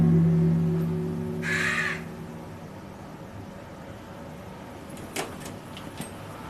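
A single harsh caw from a crow near the start, fairly close, then quiet room tone with a few small clicks and taps, no speech.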